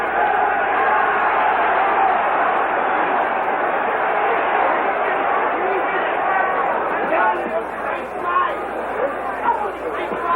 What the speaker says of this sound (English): The roars of the crowd deceiving because Mildenberger did not really land.